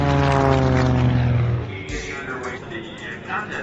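A Super Chipmunk propeller aircraft racing a jet-powered school bus, a loud droning engine with strong harmonic buzz that fades into a rougher, more distant roar as the race gets underway.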